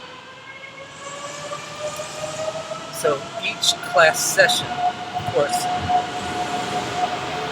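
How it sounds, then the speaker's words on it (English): A train on a railway, a steady hum with tonal whines and screeches as it passes, with a person talking over it. "I wait for the train."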